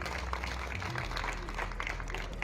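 An audience claps together during a talk by a New Zealand doctor, a dense, even patter of many hands that keeps going throughout at moderate volume.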